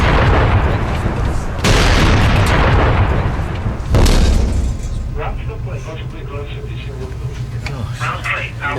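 A new warship's weapons firing during trials, two heavy booming blasts with roaring rumbles that decay into a steady hum of ship machinery, with a voice heard near the end.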